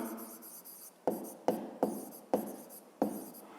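A pen scratches on paper in short strokes, about six quick bursts of writing separated by brief pauses, close and quiet, for a fifth-grade math exercise.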